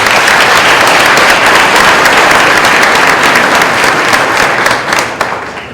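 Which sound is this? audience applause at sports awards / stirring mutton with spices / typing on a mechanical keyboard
audience applause at sports awards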